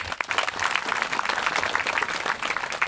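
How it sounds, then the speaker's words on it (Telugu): A crowd clapping for the goddess at a devotional gathering, a steady, dense wash of applause from many hands throughout, fairly close and continuous. "ఇప్పుడు సంధ్యమ అమ్మవారికి చక్కని చప్పట్లు కొట్టండి అయ్యా."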